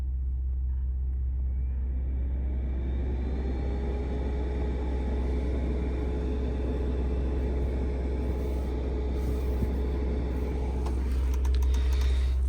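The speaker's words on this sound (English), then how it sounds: "I want you to at least be able to hear the fans" Ventilation fans in a 2015 Porsche Macan Turbo spinning up inside the cabin: a steady whooshing airflow with a faint rising whine as they come on, then a constant hum and a few light clicks near the end.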